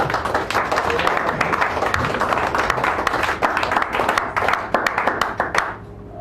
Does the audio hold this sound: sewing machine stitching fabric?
no